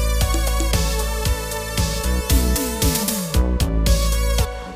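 A variation on a theme's chorus played on a Roland JD-Xi synthesizer, with an analog poly patch over bass and drums. A busy, dense electronic arrangement with sliding, bending synth notes, loud and close and with no voices.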